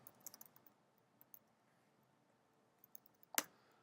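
Typing on a computer keyboard in a quiet room, with a burst of light key clicks at the start, a few sparse taps, then a firmer keystroke near the end.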